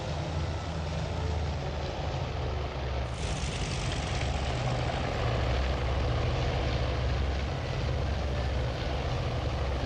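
A steady, loud drone of aircraft engines aboard an aircraft carrier in the Task Force Admiral naval game runs unbroken throughout, with one rising whoosh partway through as a plane is recovered.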